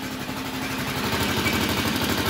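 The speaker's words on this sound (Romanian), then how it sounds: "Motorul se aude o frumusețe" A 150cc ATV engine idles steadily close by, a continuous rough, pulsing drone with no pauses.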